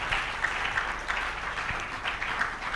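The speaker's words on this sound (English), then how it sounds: "I would think that we should clap" An audience at a school platform event claps for children, producing a steady ripple of applause heard at moderate distance with no talking over it.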